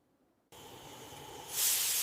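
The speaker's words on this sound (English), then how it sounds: "That's the sound of high-pressure cooking turning our beef incredibly tender" After a brief silence, a steady hiss of escaping steam from a pressure cooker of beef curry on a medium flame begins, then swells louder and brighter near the end, continuous and close.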